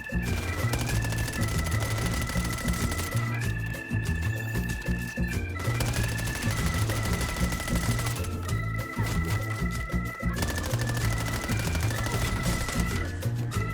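Rapid, continuous automatic gunfire in Call of Duty Black Ops 7 zombies mode, loud and close, with dense repeated shots and steady game music tones underneath throughout.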